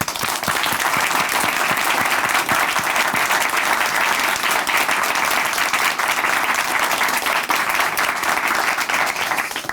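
Studio audience at a Christian testimony programme claps continuously in a loud, even burst of applause that holds throughout.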